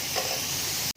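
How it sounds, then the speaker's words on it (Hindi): Ground spices for matar keema (crushed and ground red chilli, cumin, coriander powder and turmeric) sizzle and fry in a pan, a brief close hiss that cuts off abruptly. "सारे मसाले ऐड करके इसको फिर से 1 मिनट के लिए भूनेंगे।"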